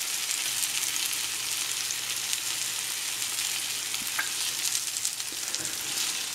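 Pancakes sizzle and fry in a pan with a constant, fairly quiet hiss and crackle, joined by a couple of faint clicks from the cooking.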